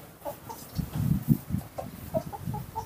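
Chickens cluck in a series of short, close, uneven bursts, with no talking over them.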